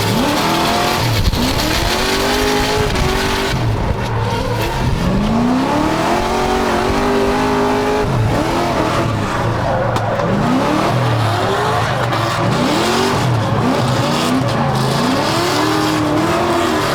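A drift car at night on Freedom Factory's big banked track, loud and close, with the engine roaring nonstop and long rising-and-falling tire squeals repeating as it slides through the turns.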